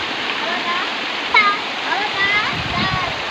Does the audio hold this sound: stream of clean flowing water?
yes